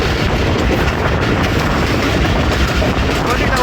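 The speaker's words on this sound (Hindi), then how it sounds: "जाफर एक्सप्रेस कर्व के साथ।" The Jaffar Express rolling through a curve on a foggy winter day, a loud, dense, continuous rumble of wheels and carriages close by, with a steady roar and rattling over the rails.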